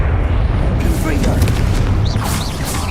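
A fiery Confringo spell blast booms in Hogwarts Legacy amid continuous game noise, with a voice present throughout the clip.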